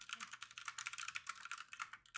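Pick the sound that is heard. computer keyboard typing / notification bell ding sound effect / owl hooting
computer keyboard typing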